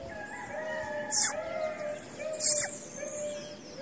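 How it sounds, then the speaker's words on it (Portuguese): Female double-collared seedeater giving two brief high chirps about a second apart, fairly close, over a steady low background hum. "Parece uma fêmea de coleiro."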